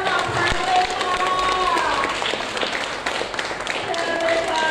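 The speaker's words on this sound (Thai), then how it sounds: "ขอเสียงปรบมือดังๆต้อนรับคู่บ่าวสาวของเราทั้งสองท่านเลยค่ะ" Guests applaud to welcome the bride and groom at a Thai wedding ceremony. Steady, dense clapping from a crowd fills the scene throughout, with voices chattering underneath.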